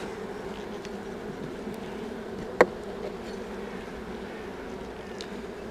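Honey bees hum steadily around an open hive during a spring inspection, a low, even buzz close by with one sharp click or knock partway through.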